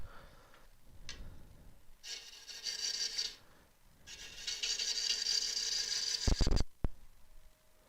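Elm burr being turned on a wood lathe with a sharp gouge, giving bursts of rasping, scraping cuts that come and go, the longest sustained pass near the end, close and fairly loud with no talking.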